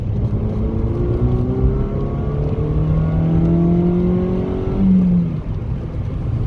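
Mazda 2 fitted with a short ram air intake accelerating hard in second gear, heard from inside as a loud engine drone rising steadily in pitch with a brief shift-like dip near the end, no talking.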